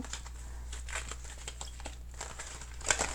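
Oracle cards with heart designs being shuffled by hand, a run of soft crinkling, papery riffles and flicks at close range, fairly quiet, with a sharper snap near the end and no talking.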